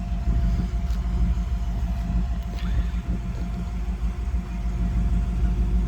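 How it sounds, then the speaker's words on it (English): A restored 1957 Chevrolet Bel Air with a high-horsepower motor idling nearby, a steady low rumble holding even throughout with no talk. "You could hear it, man. It sounds good. It's a high horse motor."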